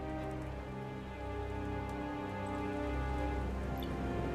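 Steady, hissing downpour of rain falls during a ship-deck scene, a soft, continuous wash of droplets without a break and no voices over it.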